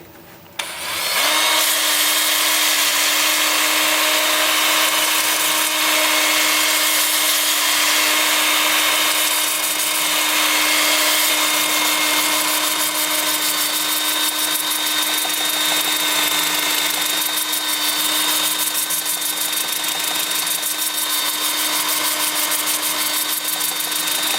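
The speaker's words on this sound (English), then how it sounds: "with the lathe spinning, whoops, forward at about 380" A steady mechanical whir of a spinning wood lathe running forward at about 380, continuous after a brief start, loud and unchanging with a constant motor hum.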